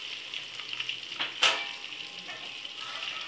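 Breaded chicken chunks fry gently in oil over a low flame, a quiet, steady sizzle broken by a sharp clink and soft scraping as the pieces are turned over one by one.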